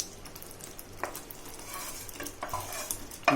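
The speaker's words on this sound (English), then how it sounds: "So once the paneer is added, give it a light mix" Paneer cubes being gently mixed into simmering palak puree with ghee, giving soft scraping stirs with a faint sizzle underneath and a sharper clink near the end.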